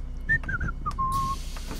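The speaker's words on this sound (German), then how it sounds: "magst du, wenn der Zugbegleiter pfeift?" Conductor's whistle in the OMSI 2 bus simulator game: a few short pitched whistle chirps followed by one longer sustained tone, fairly clear over a low engine-like hum, ending with a hiss.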